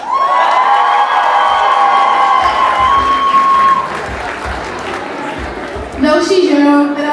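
An audience at a school class ceremony claps and cheers for a teacher, loud sustained applause with whoops and shouts, swelling again near the end as a voice carries over the crowd.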